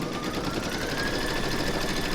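Embroidery sewing machine running a satin stitch around the raw edges of a T-rex dinosaur applique in a hoop, giving a fast, continuous buzzing hum, close and steady without pause.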